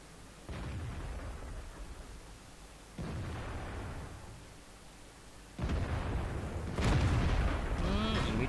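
Tank cannon fire in World of Tanks, heavy booming shots landing about every two to three seconds with rumbling decay, the later blasts louder and overlapping with tail noise.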